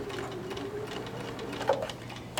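Sewing machine stitching a seam on a fabric strap, with a back stitch to lock the end; a steady soft mechanical whir with fine ticking runs throughout, fairly quiet and close, with no talking.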